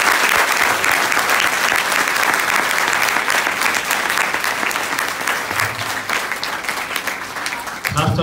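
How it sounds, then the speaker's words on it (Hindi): Loud, sustained applause from a theatre audience at the close of the stage play "Baap re baap", dense clapping filling the whole stretch without pause and tapering slightly at the very end. "एक बार जोरदार ताली बजाई जाए"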